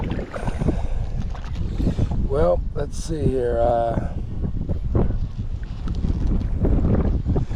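Strong wind buffets a microphone outdoors by the water, a steady broadband roar throughout, with a person talking briefly over it.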